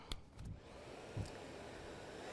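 A Kärcher BVL 5/1 battery backpack vacuum is switched on and settles into a steady, fairly quiet whooshing airflow hum, with a few faint clicks and bumps as it starts.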